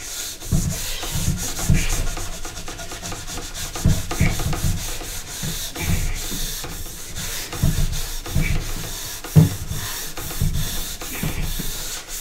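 A structure pad scrubs back and forth over a snowboard base during tuning, giving a steady rhythmic rasping with repeated strokes and no talk.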